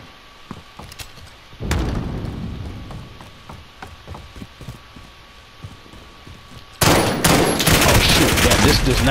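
Automatic FR 5.56 rifle fire in Call of Duty Modern Warfare, arriving in loud sustained bursts, first around the two-second mark and then again near the end, with scattered quieter shots and game noise between them.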